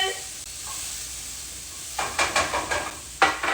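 Garlic shrimp sizzling in a pan, stirred so that a string of scraping, hissing bursts comes in the second half after a quieter simmering start.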